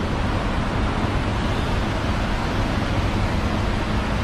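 A large river flows with a broad, steady roar of rushing water that stays loud and unchanging throughout, with no voices.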